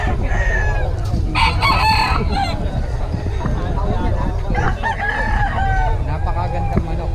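Roosters crow repeatedly, loud and close, several birds overlapping amid a busy background of clucking and general noise at a chicken market in Bocaue.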